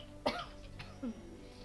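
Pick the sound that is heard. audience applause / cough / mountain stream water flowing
cough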